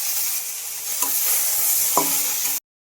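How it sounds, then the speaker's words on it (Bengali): Leafy greens frying in a pan of leftover okra-frying oil with green chilli and chopped onion: a steady, loud sizzle throughout, with two brief stirring scrapes before it cuts off abruptly. "আমার ভেন্ডি ভাজি যে তেল আছে এই তেলে আমার শাকটা ভাজি হয়ে যাবে।"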